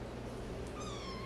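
Five-week-old Ragdoll kittens meowing close by, one high, thin mew rising clearly near the end over a low background rumble, with no talking.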